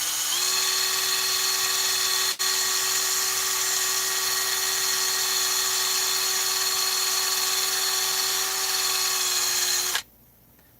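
A rotary tool fitted with a Scotch-Brite abrasive pad whines at a high steady pitch while cleaning the piston of a Stihl 200T chainsaw, close and continuous before cutting off abruptly near the end.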